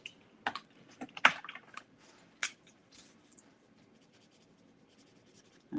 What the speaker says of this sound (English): So you see I'm colouring all over the top of the embossing